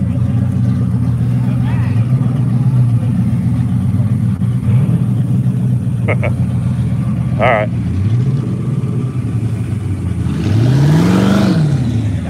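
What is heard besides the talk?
Turbo Monster Trans Am engine revving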